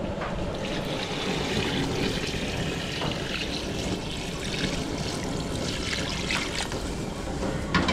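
Water pours steadily into a pot for pressure cooking, a continuous broadband splashing and trickling that runs for the whole stretch at moderate, even loudness with no talk.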